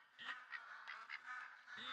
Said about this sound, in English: I just realized there's going to be ducks here.